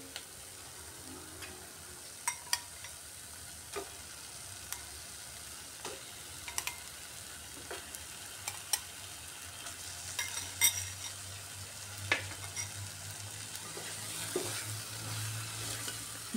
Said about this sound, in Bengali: এবার এর মধ্যে ভেজে রাখা ডিম দিয়ে দিচ্ছি।